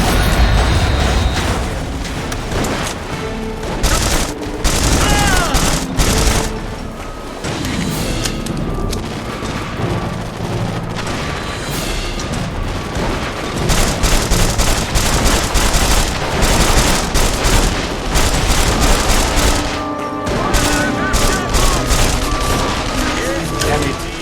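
Gunfire and explosions from the video game The Saboteur, with snipers firing: dense, loud, continuous battle noise, repeated sharp shots and booms layered over a music score, with no clear speech.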